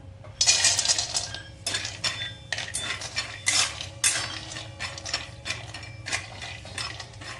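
Almonds stirred in ghee in a kadhai over a low flame for fasting makhana-date laddoos, with a spatula scraping and clinking against the metal pan in steady, close, repeated strokes.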